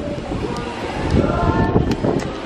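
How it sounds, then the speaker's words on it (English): Wind gusting through an open window aboard the Royal Caribbean cruise ship Liberty of the Seas, docked at Cozumel, Mexico, a steady low rumble with buffeting swells, close to the microphone. "So, it's really windy right there because there's a window."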